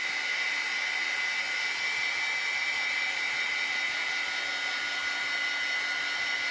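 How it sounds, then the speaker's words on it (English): An embossing heat gun blows with a steady, loud, high whirring hiss while drying chalk paste on a craft project, continuous and close with no voices. "The embossing gun does a really nice job of drying pretty quick."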